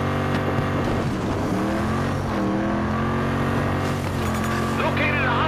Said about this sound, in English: Spotted an enemy vehicle.